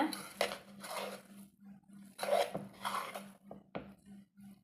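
A spoon scraping and clanking around a pot as ghee is stirred into green karamani (cowpea) biryani, repeated strokes up close with a low steady hum beneath and a few sharp knocks.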